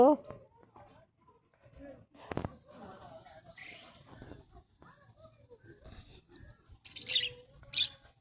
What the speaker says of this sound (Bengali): আর এখানে অনেক ধরনের পাখি আছে ছোট ছোট